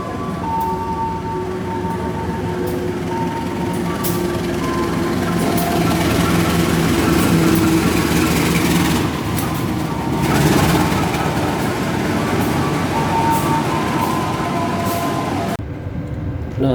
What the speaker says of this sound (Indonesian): kereta komuter lain Doho masuk di jalur 2 stasiun Tulungagung menuju ke arah timur hingga stasiun Malang